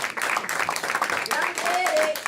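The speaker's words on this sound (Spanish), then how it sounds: "Puedes darle un aplauso al querido por los siglos de los siglos." Church congregation applauding during a sermon, a short stretch of clapping mixed with voices and talking, with a brief whistle-like tone near the end.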